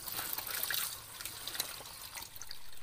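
Running water splashes and trickles steadily as leaves are rinsed by hand with a small cloth while preparing steamed sticky rice and pork, a close, continuous wash with a brief dip midway.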